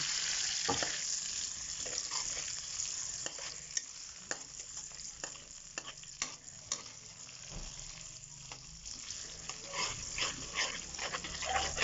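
Squid fries with garlic or onion in a pan, giving a steady sizzle and crackle with scattered sharp pops and utensil taps. A dog can be heard faintly in the background.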